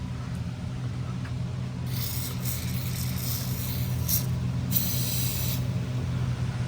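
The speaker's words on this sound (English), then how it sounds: "let's throw some penetrating oils." Penetrating oil sprays onto exhaust bolts on a car with a misfiring engine in several hissing bursts of a few seconds each over a steady low background hum; nobody speaks.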